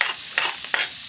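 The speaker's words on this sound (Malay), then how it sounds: "Cabainya kita goreng sekejap, sebentar saja, aduk-aduk." Chili frying in oil in a pan for an Acehnese anchovy dish, stirred in quick repeated scrapes about every third of a second over a steady close sizzle, with no voices.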